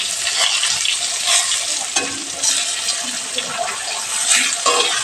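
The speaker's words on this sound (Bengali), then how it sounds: "বুঝতেই পারছি পটল ভাজছি।" Pointed gourd (potol) slices fry in a hot pan with a steady, close crackling sizzle, occasional stirring scrapes breaking through; no voices.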